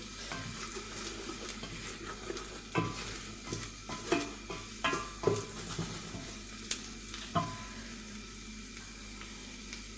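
Ingredients for a white soup frying in a deep pot, a quiet steady sizzle with scattered scrapes and knocks of a utensil stirring, close and soft with no voices.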